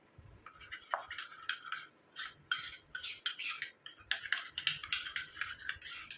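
Rice flour face pack paste is mixed in a bowl with quick, repeated scraping and clicking strokes, close and quiet with short pauses between bursts.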